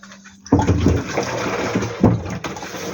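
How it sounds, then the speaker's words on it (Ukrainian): Fresh water is poured while a mushroom pie is being layered from lavash, giving a steady splashing gush that starts abruptly, runs near and continuous for about two and a half seconds with no talking. "водички заливає свіжу"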